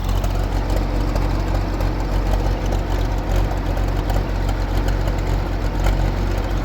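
A Case 500 diesel tractor engine runs at a fast idle, giving a steady, close, low rumbling chug that holds even throughout with no voices.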